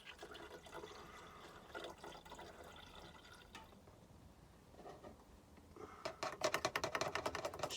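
A litre of Evapo-Rust rust remover is poured into a container, a wet gurgling and splashing fill that turns to rapid glugging bursts near the end, with no talk.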